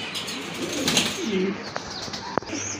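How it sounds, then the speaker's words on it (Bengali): A pair of rare pigeons coo softly amid faint chirps and brief wing flutters, with a couple of sharp knocks, in a busy, low-level setting with background voices. "এক পেয়ার কবুতর, এটা অনেক রেয়ার একটা কবুতর"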